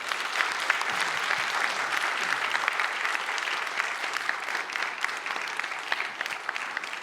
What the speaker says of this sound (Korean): 여러분 따뜻한 박수로 환영하고 축복하겠습니다.